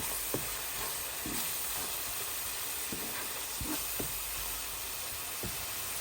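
Cumin and coriander powder frying in a pan while being stirred, a steady soft sizzle and hiss with scattered faint clicks of the spoon, quiet and without talk.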